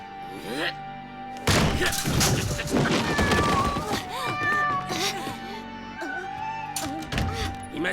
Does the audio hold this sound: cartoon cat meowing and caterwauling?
yes